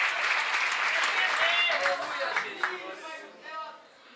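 A church congregation claps during an evening worship service, a short burst of fairly loud mixed applause that fades over a few seconds, with voices blending in.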